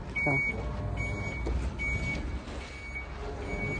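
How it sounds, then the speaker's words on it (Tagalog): A truck's reversing alarm sounds as a series of regular high beeps over a low engine rumble, close by and fairly loud throughout, near a spot where laundry is being done. "Akala ko yung washing, nasira ko. Gulat ako, yung palang truck pala yun."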